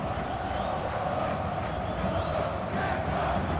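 Football crowd at a Flamengo versus Volta Redonda Campeonato Carioca match rising in a broad, sustained roar after a shot on goal, a dense wash of stadium noise with no clear break.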